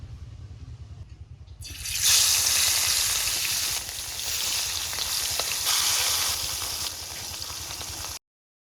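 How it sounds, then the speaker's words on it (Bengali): Pieces of rohu fish dropped into hot oil for a Bengali rui macher jhal, bursting into a loud, close, steady sizzle after a quiet low hum, then frying on continuously. "মাছটা মাখাতে মাখাতে তেলটা আমার গরম হয়ে গেছে একটা একটা মাছগুলো আমি তেলে দিয়ে দেবো"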